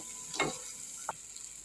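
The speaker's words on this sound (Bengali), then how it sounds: "এরপর আমি এতে পটলগুলো দিয়ে একটু নেড়ে নেব" Pointed gourd (potol) pieces are stirred through a spice masala in a pan, giving a quiet, faint sizzle with two brief scraping stir sounds and no voices.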